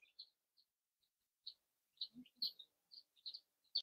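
Baby chicks in a plastic tote brooder under a heat lamp in a living room give short, high, bright peeps in an irregular scatter, with a couple of faint low thumps among them.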